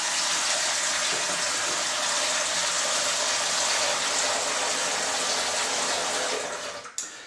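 Lukewarm tap water runs steadily into a sink for cleaning a trumpet, a loud continuous gush that cuts off abruptly near the end.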